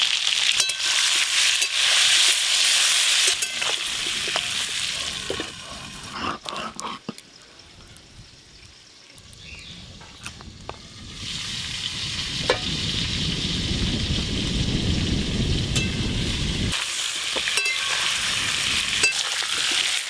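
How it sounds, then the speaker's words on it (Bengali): Potatoes for aloo dum frying in hot mustard oil, a loud, dense crackling sizzle that eases into a quieter stretch midway, then surges back strongly with occasional utensil clatter. "তেল গরম হয়ে গেছে। আলুর দমের আলুগুলো ভেজে নেব।"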